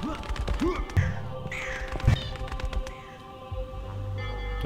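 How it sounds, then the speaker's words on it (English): A flock of crows cawing in the video game Painkiller, harsh repeated calls overlapping at close range, set over a low rumbling game ambience with a couple of dull thuds. "Look at all the crows."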